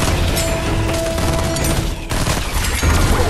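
Dense rapid gunfire in a first-person shooter, a continuous burst of close, loud shots with a brief pause partway through before the firing resumes, no speech.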